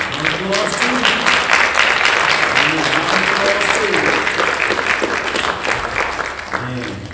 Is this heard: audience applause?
yes